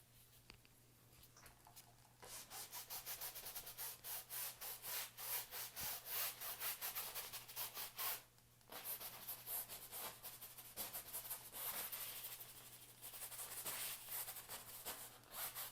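A paintbrush scrubs paint onto canvas in quick rhythmic back-and-forth strokes, close and dry, pausing briefly twice.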